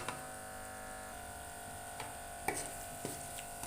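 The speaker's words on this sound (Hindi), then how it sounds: "इसे अच्छी तरह मसाले को भून लेना।" Masala frying in ghee for a hare chane (green chickpea) salan, a steady close sizzle running throughout with a few soft stirring clicks and scrapes near the end.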